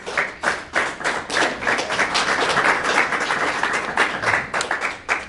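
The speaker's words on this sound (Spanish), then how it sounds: "Damos un aplauso al Señor" A crowd claps steadily for several seconds, a dense patter of applause at moderate volume with no voices.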